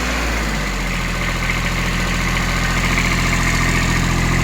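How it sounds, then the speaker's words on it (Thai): A Japanese Iseki A-155 tractor engine runs close and loud, a steady rumbling idle that rises slightly in pitch partway through as the revs climb, with no voices. "รอบเครื่องขึ้นนะครับรอบเครื่องขึ้น"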